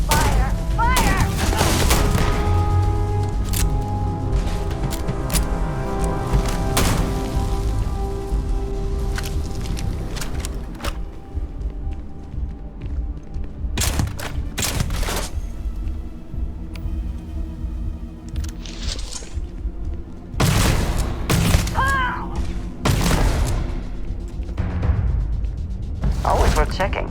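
Gunfire in the space video game Starfield, repeated bursts of shots and heavy blasts over a continuous rumble, with someone talking throughout.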